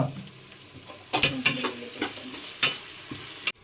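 Onions and green chillies fry in a pan with a steady sizzle while a spoon scrapes and taps the pan in several distinct strokes, close and fairly loud, with no talk.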